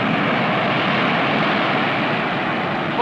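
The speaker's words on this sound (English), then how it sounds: "Oh, look, there goes a jet." A jet plane flies past, a loud, steady broadband roar that holds throughout with no break.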